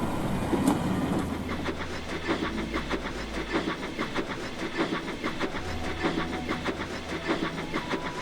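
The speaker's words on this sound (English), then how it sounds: "by the 27th, goods trains started up again, which meant the yards were busy once more" Rumbling rail yard with goods trains rolling past, steady clicking and clanking of wagons over track joints, continuous and moderately loud.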